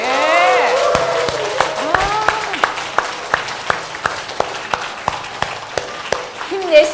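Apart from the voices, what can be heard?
audience applause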